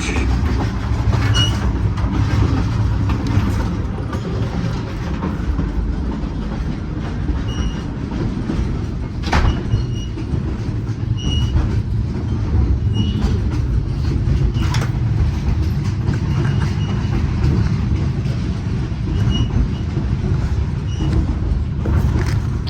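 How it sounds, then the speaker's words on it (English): Cumbres & Toltec narrow-gauge train hauled by a K27 Mudhen steam locomotive, heard from inside a coach as a steady loud rumble with rhythmic clicking of wheels on rail joints and occasional faint squeals. "Now we have K27 Mudhen number 463, Coach Sublet number 504"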